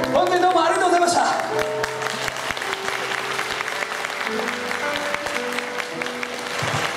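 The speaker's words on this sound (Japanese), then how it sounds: "盛大なる拍手ありがとうございます。" Steady audience applause at a live stage show fills the space, dense clapping sustained throughout, with a voice speaking over it and a few tonal notes in the background.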